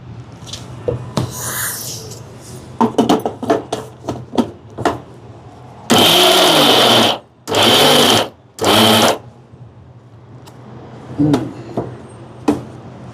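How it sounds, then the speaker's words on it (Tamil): A mixer grinder pulses chana dal for crispy susiyam in three loud, steady bursts of about a second each, with clear pauses between them, after a stretch of clattering as the jar is handled. "இதை வந்து இந்த மிக்சி கப்பில் போட்டு ஒரு 2 சுற்றி எடுப்போம்"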